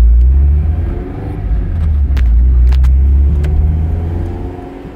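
A Porsche 924S pulls away in first gear, its engine rumbling low and steady and swelling as it accelerates, close and loud with no talk over it.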